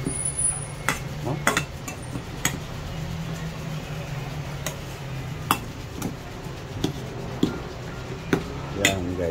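Grated vegetables being mixed in a bowl, with intermittent clinks and scrapes of a utensil against the dish over a steady low background hum, the knocks spaced irregularly and fairly close.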